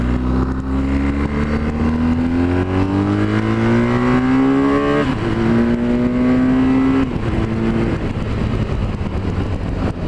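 A BMW R 1250 GS motorcycle engine with a clacking rocker noise, running loud and close as it revs up and settles back in steady rising and falling sweeps, with no talk over it.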